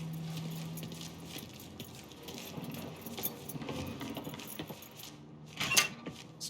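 Keys jangle and clink in the video game Mafia III, a light metallic rattle over a low engine-like background hum, with a brighter burst of jingling near the end.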